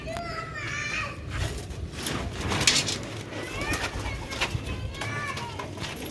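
Sialkoti roof pigeons cooing on a rooftop in soft, repeated calls, while children play and chatter nearby and someone talks over the birds.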